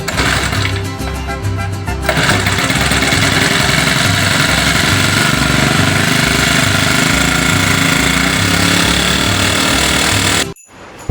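A spray pump's small engine runs loudly and steadily while the pump is being repaired. The mechanical hammering drone stays constant for about ten seconds and then cuts off abruptly near the end.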